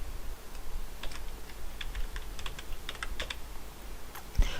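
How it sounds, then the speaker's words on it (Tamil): Someone types a login ID on a computer keyboard, tapping keys in quick irregular clusters at close range, with a louder key strike near the end and no talking. "இப்போ பாருங்கள் நான் வந்து என்னோட லாகின் ஐடி பஸ் நான் டைப் பண்ணுறேன்"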